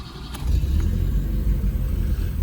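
Carbureted Fiat Tempra engine catches and settles into a low, steady rumbling idle close by, following a brief quieter moment at the start.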